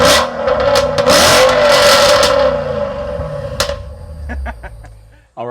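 A supercharged Dodge Charger Pursuit engine revs hard up close with a loud, rising roar and whine, then drops back to a lower idle rumble with a few sharp clatters.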